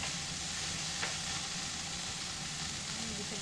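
Chicken breast and garlic browning in a hot pan during a stir-fry, a steady, soft sizzle that runs throughout at low volume with only faint voice nearby.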